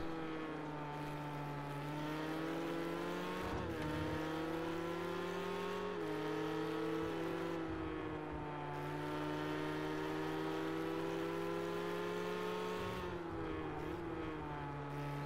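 A Ford GT40 and a Ferrari race cars in Project Cars 2 drive past with high, harmonic engine whines that rise and fall through gear changes, loud and continuous, with no talking.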